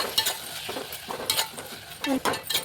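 Tomato pieces frying in a pan with ginger garlic paste for a fish curry, stirred with a utensil: scraping strokes and clinks over a steady sizzle, close and fairly loud.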